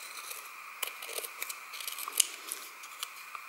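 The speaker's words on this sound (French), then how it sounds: "On va découper nos chutes de papier, même si ça dépasse un peu, c'est pas régulier, c'est pas grave." Scissors snip through scraps of paper in a quiet room, a series of crisp, close cuts at an irregular pace with small rustles between them.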